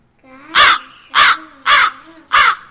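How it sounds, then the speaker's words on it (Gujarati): A crow caws four times in an even rhythm, each harsh call loud and close with brief quiet gaps between, and no talk over the calls. "કાગડો કેવું બોલે?"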